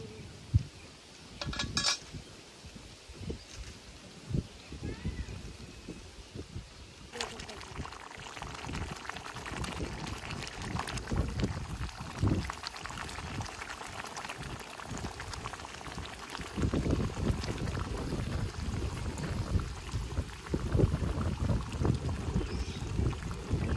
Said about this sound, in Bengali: এখন তাহলে মাংস দিয়ে দিই।